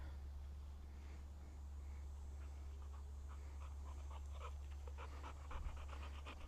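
A retriever dog during handling training pants in quick, faint, rhythmic breaths against a steady low hum, with no talking.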